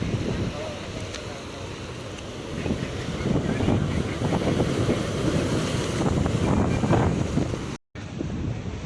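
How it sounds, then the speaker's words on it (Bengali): Sea waves rolling onto the Old Digha shore at high tide, a steady rushing surf under heavy wind buffeting on the microphone, with a brief dropout near the end. "ঢেউটা আসছে দেখছো।"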